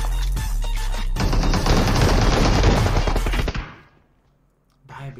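Shotgun gunfire in PUBG Mobile rattles out in a dense, rapid burst of loud shots lasting a couple of seconds, then cuts to near silence before a faint sound returns.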